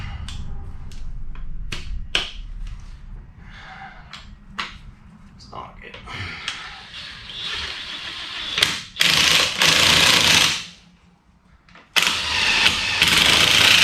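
An impact wrench fitted with torque sticks works on the ball joints of a 2004 Ford F250 Super Duty 4x4, firing in loud, close bursts of hammering rattle with pauses between them, amid clanks and shop noise.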